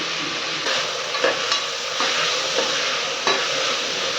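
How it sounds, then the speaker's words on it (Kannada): Onions are fried with coriander and mint leaves for a biryani, producing a continuous bright sizzle in the pan broken by a few distinct scrapes of a stirring spoon. "ಈರುಳ್ಳಿ ಎಲ್ಲ ಫ್ರೈ ಆದಮೇಲೆ ಕೊತ್ತಂಬರಿ, ಪುದೀನ, ಸ್ವಲ್ಪ ಕೊತ್ತಂಬರಿ ಪುದೀನ ಹಾಕ್ಕೊಬೇಕು. ಅದನ್ನು ಚೆನ್ನಾಗಿ ಫ್ರೈ ಮಾಡ್ಕೊಬೇಕು."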